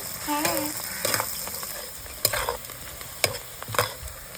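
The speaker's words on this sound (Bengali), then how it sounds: "এবার দেবো পেঁয়াজ দেখলে তো কেমন ফুটফাট করে ফুটলো" Chopped onions are added to hot oil with cinnamon in a pan, giving a steady frying sizzle broken by several sharp crackling pops and a few stirring clinks, close by and moderately loud.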